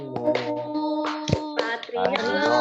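Children singing a patriotic Indonesian song together in a classroom setting while hands clap along in rhythm, close and steady under the voices.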